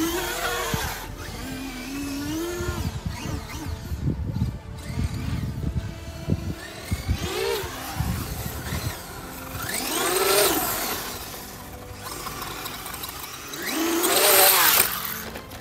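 A Traxxas UDR RC truck drives over sand, its electric motor whining and surging in bursts that rise sharply near 10 and 14 seconds, with gritty rattling from the wheels throughout.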